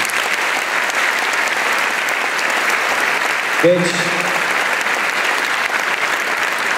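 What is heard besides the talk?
audience applause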